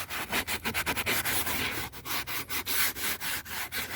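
Sandpaper is rubbed by hand over the fibreboard roof lining of an Alfa Romeo 147, producing quick, close rasping strokes in an uneven back-and-forth rhythm, with no voices.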